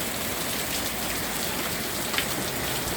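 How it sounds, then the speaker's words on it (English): Heavy rain pours steadily in a New England rainstorm, a dense continuous hiss of drops drumming on surfaces and an awning, loud and unbroken with no voices. "This is what you call a serious rainstorm."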